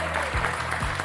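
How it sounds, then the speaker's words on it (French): Studio audience applause fills a French television game show set, steady dense clapping running throughout with a low musical hum beneath. "merci d'accueillir avec vos plus chaleureux applaudissements Thierry Beccaro."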